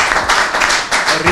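Applause breaks out at a football club press conference for Ascoli Calcio, a dense wash of clapping filling the room, loud and close, with voices mixed in.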